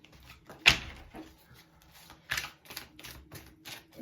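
Tarot cards being handled and shuffled at close range: soft papery slaps and riffles in short bursts, one sharper snap early on, quiet overall with no speech.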